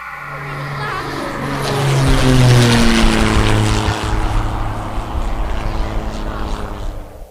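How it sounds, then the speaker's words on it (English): Propeller aircraft engines droning as planes circle and dive in a radio drama, a loud sustained roar with shifting pitch that swells toward the middle and then holds steady. "Planes circling ready to strike."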